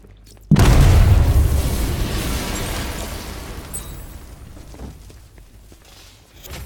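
A large detonation goes off in Batman Arkham Knight: one sudden, loud boom with a deep low-end burst that rolls into a long rumbling decay, fading over several seconds with faint debris settling afterward.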